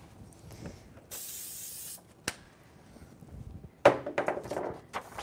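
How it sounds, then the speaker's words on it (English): A short burst of sublimation pro spray on fabric hisses steadily for about a second, followed by handling clatter and light taps. "Use a little bit of pro spray on it."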